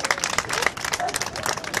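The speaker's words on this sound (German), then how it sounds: "Applaus für die Neuen." Outdoor audience at a Braunschweig vigil gives a round of clapping for newcomers, distinct individual claps close by, uneven and lively, with some voices mixed in.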